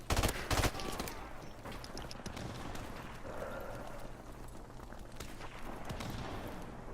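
Burst-fire gun in a video game fires a quick cluster of loud shots at the start, then the room settles into quieter background noise with faint murmuring.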